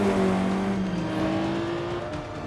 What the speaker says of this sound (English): Look at that side-by-side racing.